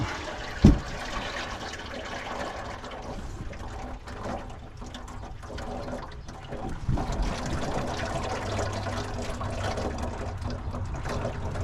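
Steady engine oil draining into a pan from a Mercedes MBE 4000 motorhome engine, a continuous splashing stream with a sharp clunk near the start, fairly close and without any talking.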